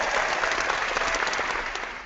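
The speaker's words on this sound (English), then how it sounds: "Now let's have a moment to applaud" An audience at a comic book podcast event claps together in a short, even burst of applause at moderate loudness, then it starts to fade toward the end.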